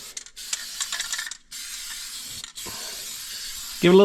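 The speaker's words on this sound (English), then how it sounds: "zinc coating spray" An aerosol can of zinc coating spray hisses in short bursts of spray, separated by brief pauses, close by, ending with a quick voice.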